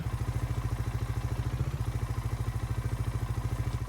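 Vehicle engine in Farming Simulator 19 with a lawnmower-like sound, idling in a steady rapid chugging pulse, even and continuous throughout with a slight shift midway.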